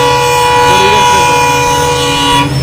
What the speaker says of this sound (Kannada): ಇದೇ ಒಂದು ಟ್ರೈನ್ ಹೋಯ್ತು, ಈಗ ಮತ್ತೆ ತೆಗೆದಿಲ್ಲ ರೀ